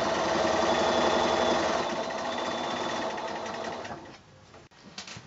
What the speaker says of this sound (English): So I've done four rows of stitching